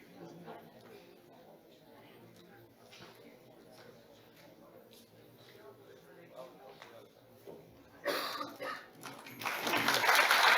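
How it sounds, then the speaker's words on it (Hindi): Near the end, at a youth parliament event, applause swells up from a murmuring hall to welcome a participant onto the stage, starting loud and building over the last couple of seconds after quieter crowd chatter. "एक बार जोरदार तालियां बजाएं अमित शाह जी के लिए।"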